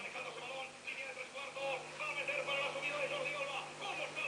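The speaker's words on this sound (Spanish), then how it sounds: "La radio no tiene un volumen muy alto, pero es una radio galena" Faint, tinny radio playback with a thin voice coming through, steady and quiet, with a low hum underneath.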